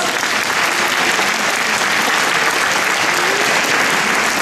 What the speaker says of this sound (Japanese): 皆さんから拍手をお願いいたします。